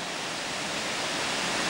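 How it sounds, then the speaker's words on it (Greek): Livaditis waterfall roaring where two streams join, a steady dense rush of falling water filling the air without a break. "σε αυτό εδώ το σημείο που σκάει ο καταράκτης"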